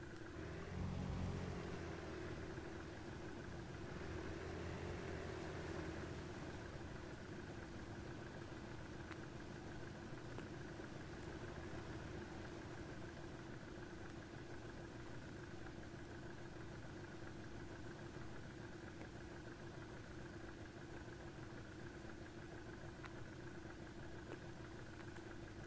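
Vehicle engines idle at a military simulation exercise near a beach, a steady, continuous mechanical drone with a low hum that runs unbroken throughout, slightly fuller in the first few seconds before settling to an even level.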